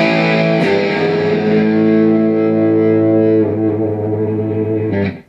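A distorted electric guitar holds a sustained G on the sixth string that slowly bends up a whole step, ringing loudly and steadily before cutting off at the end.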